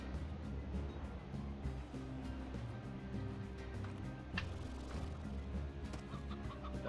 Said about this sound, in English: That's a painted chicken.